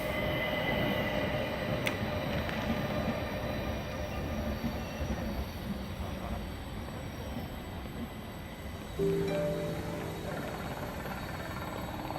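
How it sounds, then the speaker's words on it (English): A locomotive-hauled Orient Express train rumbles past on the rails with a steady rolling roar, high metallic wheel squeal and clatter, close and continuous, with a sharp hiss or brake release near the end; no speech. "moment to savor, to see the famous locomotive after so many years."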